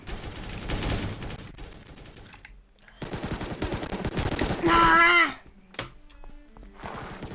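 Rapid gunfire from a first-person shooter video game, bursts of shots separated by a brief lull, loud and up close, with a swelling tonal in-game effect partway through.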